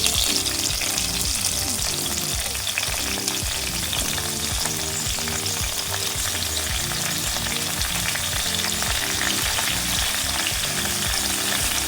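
Tomato mixture for a red tomato chutney frying hard in a pan, a loud dense sizzle running unbroken throughout, with a faint rhythmic pattern underneath.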